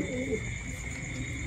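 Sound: Thai Titan pigeon cooing while brooding eggs

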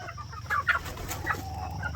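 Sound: chickens clucking during feeding

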